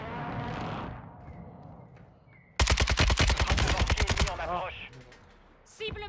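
A rapid, loud burst of automatic gunfire from a shooter video game rattles for nearly two seconds, with players talking in French before it and faint game noises after.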